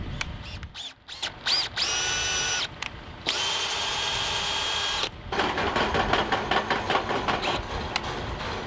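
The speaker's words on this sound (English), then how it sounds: "I'll stick the tap into the drill and then on low speed basically feed it in" A power drill fitted with a thread tap whirs in bursts, then runs steadily at low speed with a grinding edge as the tap feeds in, close by and with no voices.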